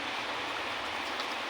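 Rain falls outdoors, heard from inside a home kitchen as a dense, continuous wash of hiss that never lets up or changes in strength.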